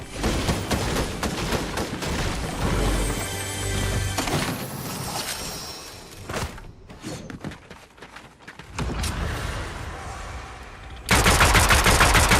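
Pistol fire in the Fortnite video game, with rapid loud gunshots in bursts, brief lulls between volleys and a dense, heavy barrage of shots at the end.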